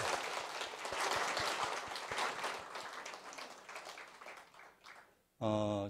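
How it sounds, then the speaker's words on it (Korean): A temple congregation breaks into applause, a dense crowd clapping that fades over several seconds before a voice starts speaking at the end. "본공회 분들과 교도님들께 박수 좀 부탁드립니다."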